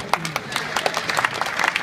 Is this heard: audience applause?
yes